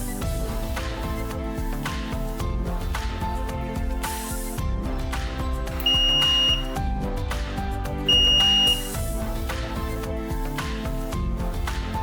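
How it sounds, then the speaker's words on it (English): A multimeter's continuity buzzer sounds two steady beeps, each about half a second, while checking the charging port of an EGO BAX1500 battery, heard over continuous background music. "Switch the multimeter to resistance setting and turn the buzzer on."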